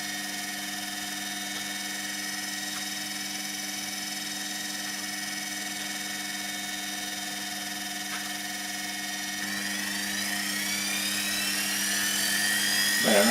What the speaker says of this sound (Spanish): la potencia del motor aumenta y la velocidad aumenta